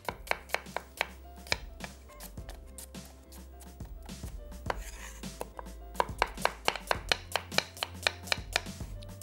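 A knife slices through onions on a cutting board in a home kitchen, producing a steady run of crisp, close chops with a brief pause partway through before a quicker burst of cuts. No one speaks.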